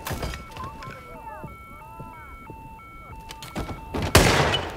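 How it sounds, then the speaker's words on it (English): A firearm is fired in the video game Hitman 3's Bangkok level: a few sharp cracks among electronic game tones, then one loud, close blast near the end. "Someone's discharging a firearm."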